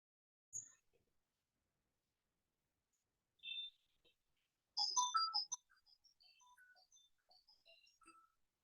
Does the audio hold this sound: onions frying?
no